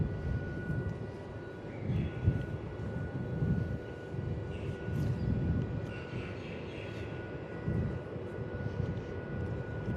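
Airliner taking off from a Melbourne Airport runway, a steady distant jet engine roar with low rumbling swells, mostly alone with little talk.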